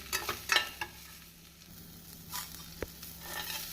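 Coconut flakes and a few cashews sautéing in a pan, with soft intermittent stirring scrapes and faint sizzling. The scrapes come close by in short irregular bursts over a low steady hum, and no one speaks.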